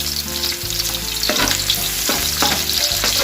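Onion sautés loudly in a pan for a radish kilawin, a dense, close crackling sizzle broken by repeated spatula scrapes against the metal.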